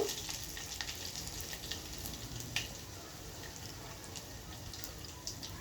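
Quiet, steady sizzle of tempering spices in hot oil with scattered crisp pops and crackles, fading slightly after a brief clatter midway.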